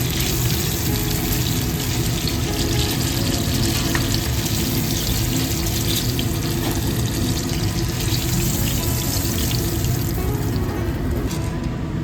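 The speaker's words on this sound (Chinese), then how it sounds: "放入热的油中炸" Battered banana fritters fry in hot oil, giving a loud, steady, dense crackling sizzle that holds without a break from start to finish, close up.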